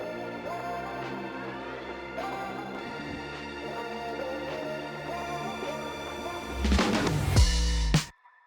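A synth intro chord progression for a dark pop song, layered sustained chords changing steadily over a low bass, building into a louder, denser swell near the end before cutting off abruptly.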